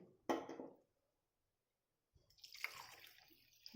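Water poured from a bowl into a pot while cooking sweet coconut rice with jaggery: a brief splashing pour, a quiet pause, then a second longer sloshing pour, close and clear.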